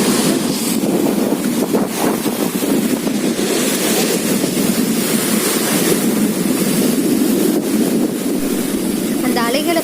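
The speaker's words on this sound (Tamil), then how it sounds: "வெறும் அந்த அலைகளோட அந்த சத்தமும் அந்த காற்றோட சத்தமும் பார்த்தீங்கன்னா கேட்டுகிட்டே இருந்துச்சு" Sea waves roll onto an empty shore at Sethukarai while strong wind buffets the microphone, forming a loud, continuous roar of surf and gusts throughout.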